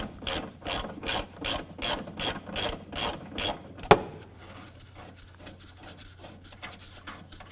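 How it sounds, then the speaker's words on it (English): A ratchet with a 14mm socket loosens the upper torque strut engine mount bolt on a 2012–2017 Toyota Camry. About ten even, rhythmic clicking pulls end in a sharp metallic knock, followed by quieter scraping and fiddling, close up with no talk. "14mm socket and ratchet, we're going to go ahead and loosen"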